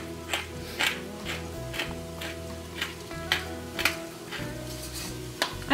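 Turkey sausage and vegetables cook in a pan, a soft steady sizzle under repeated light taps and scrapes of a utensil stirring, close by and without speech.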